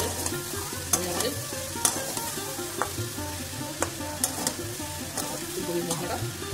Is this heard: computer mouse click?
no